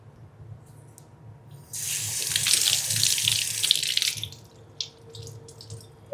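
A kitchen tap runs as cilantro is washed under it: a close burst of gushing, splashing water for a couple of seconds, then stopping, followed by a few scattered drips and small clatters.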